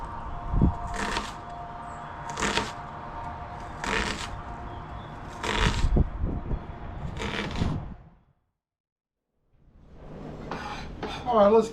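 Knife chopping the second half of an onion for alligator chili, outdoors on a windy day: a run of five crisp, evenly spaced cuts against a board over wind rumble, a short pause, then more rapid close chopping.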